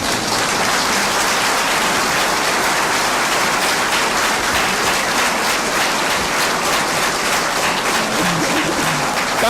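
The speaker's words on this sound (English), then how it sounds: "so you can dispense with the clapping" A crowd at a swearing-in ceremony applauds, steady dense clapping that stays loud and even throughout.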